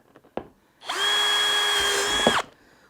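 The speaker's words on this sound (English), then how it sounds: "I'm going to drill one hole up front." A power drill bores a hole through wood while mounting a fish finder on a fishing kayak dry pod box. A brief knock comes first, then a loud, steady, high-pitched motor whine runs for about a second and a half before spinning down.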